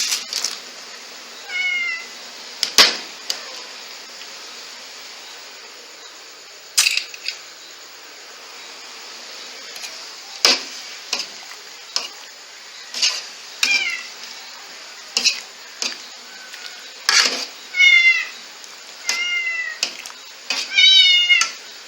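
A pet cat meows repeatedly in a home kitchen during dinner cooking, several short close calls spread irregularly, with sharp clinks and knocks of kitchen activity between them.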